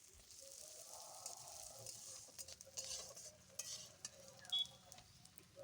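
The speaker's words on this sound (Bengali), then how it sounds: "পেঁয়াজটা তেলের মধ্যে দিয়ে দিলাম," Chopped large onion sizzling in hot mustard oil in a wok, a steady close frying hiss broken by stirring scrapes and utensil clinks against the pan.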